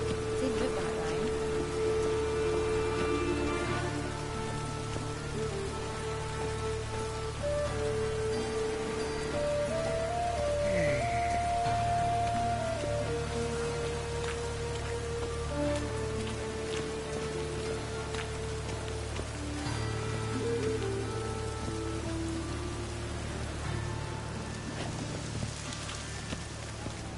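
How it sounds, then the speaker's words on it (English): Steady rain falls in The Witcher 3, a continuous even wash that runs the whole time, with faint game ambience and occasional tones drifting underneath. "It just rains and rains."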